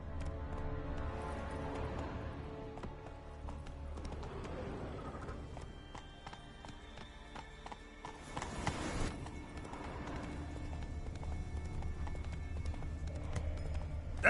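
The horse Roach moves across ground in The Witcher 3, her hooves clip-clopping in a steady rhythm at moderate distance, with faint ambient game sounds around and a brief louder burst in the middle.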